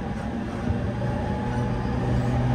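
Interior rumble of a JR East 209 series 1000 subseries train with a Mitsubishi GTO-VVVF inverter running on the Chuo Line Rapid between Ogikubo and Shinjuku, a steady low drone with rolling wheel noise.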